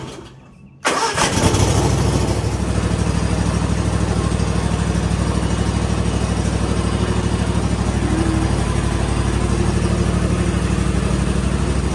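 A small engine sputters to life with a sudden roar, then keeps running at a steady, loud drone close by, like a lawnmower.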